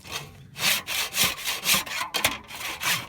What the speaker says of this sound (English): every part of her is involved in this wood sawing